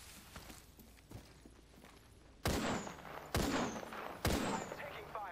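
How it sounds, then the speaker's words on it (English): Three loud, sharp gunshot bursts ring out in a shooter video game, coming in close succession over the second half after quieter background rumble and faint game noise. "I'm taking fire."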